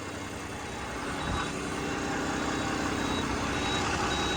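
A truck backs up to be parked, its reversing alarm repeating in evenly spaced high beeps over a steady engine hum and broadband rumble.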